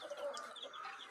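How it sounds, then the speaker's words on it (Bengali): Week-old chicks in a brooding cage lined with jute sacking give soft, high peeps, a faint, brief chorus heard close by. "এই যে মুরগির বাচ্চাগুলো"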